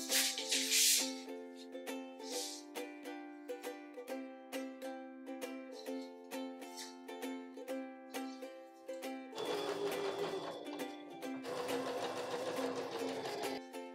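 Sewing machine stitching a long seam of curtain fabric, a steady mechanical whir with rhythmic needle chatter running continuously and close, growing rougher and louder toward the end.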